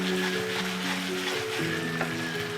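Garlic paste frying in a pan for restaurant-style paneer pasanda gives off a steady, close sizzle that lasts the whole stretch, with soft scraping of stirring on top.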